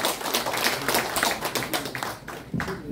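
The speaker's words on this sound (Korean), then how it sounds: "큰 박수로 환영해 주시고 고맙겠습니다." An audience at a calligraphy exhibition at the Korea Art Museum in Insadong applauds to welcome the calligrapher, with dense, continuous, close clapping filling the whole few seconds.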